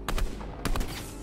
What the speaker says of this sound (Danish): Jeg kan høre skud.